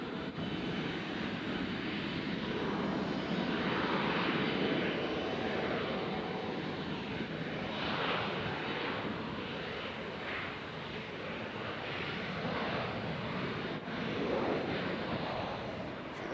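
A New York police department aircraft passes at Nashville airport with a steady, mid-distance engine drone and wind-like rush that swells slightly and holds for a long stretch.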